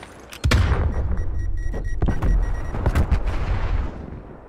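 A grenade blast and gunfire sound in the shooter game Black Ops Cold War: several loud, close, sharp shots and booming explosions in quick succession, then a rumbling decay, with no voices.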